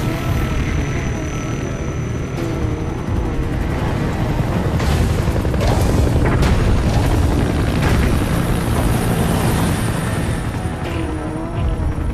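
A steady, loud roar of a support helicopter's rotors and engine in Metal Gear Solid V: The Phantom Pain fills the scene continuously, with booming rumbles layered underneath throughout.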